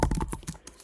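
Brief, rapid keystrokes on a computer keyboard while writing Java code, a quick run of close, crisp clicks that fades out within a second.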